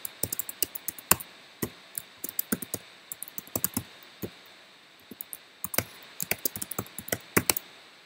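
Typing a command on a computer keyboard, crisp close key clicks in quick irregular bursts with short pauses between them, no talking.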